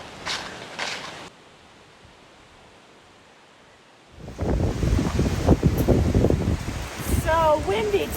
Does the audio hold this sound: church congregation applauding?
no